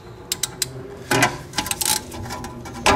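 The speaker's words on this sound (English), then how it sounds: "it just goes into a 17mm socket and onto a 3/8 inch ratchet" A 3/8-inch ratchet turns a brake caliper tool seated in a 17mm socket during a rear disc brake job, giving close, loud bursts of rapid mechanical clicking with short pauses between them.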